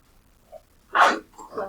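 One sharp, close sneeze bursts out after a brief inhale, followed by a small trailing breath.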